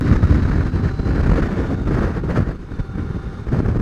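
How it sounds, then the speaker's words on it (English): Strong wind roars and buffets around a rider on a 2022 CF Moto 800MT motorcycle, a loud, continuous rumbling blast that dips briefly and surges back, with no talk. "I am being battered around the place by this wind"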